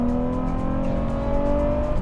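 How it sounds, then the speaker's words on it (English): Nissan 350Z with its VQ35 engine accelerating gently at road speed, a steady, rising engine drone with smooth harmonic tone sustained throughout, close and fairly loud, no talking. "The noise of that VQ35 is fantastic."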